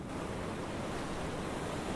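Sea waves after rain wash in a steady, broad rushing roar with wind buffeting the microphone, continuous and fairly loud over a short stretch, with no voices.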